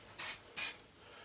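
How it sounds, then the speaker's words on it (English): Two short, loud bursts of spray paint primer hiss from an aerosol can while coating an RC crawler, each lasting about a quarter second, close to the listener. "there's the first coat of primer on"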